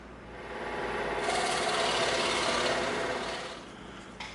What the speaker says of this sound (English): now we can feed the blade through and cut it out